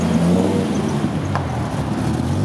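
A 1999 Dodge Viper GTS engine runs with a steady, loud, deep rumble up close, without talk, briefly rising in pitch partway through.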